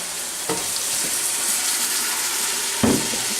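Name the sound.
stock added to gumbo, scraping fond off pan bottom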